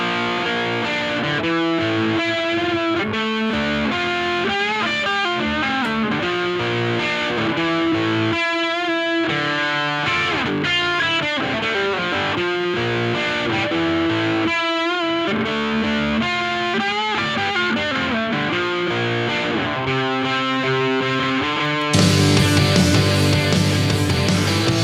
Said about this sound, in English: now inserting a distortion pedal within the signal